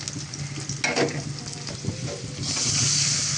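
Onion and green chilli frying in a pan for tomato chutney, a steady close sizzle with a stirring scrape near the middle and the hiss growing louder toward the end.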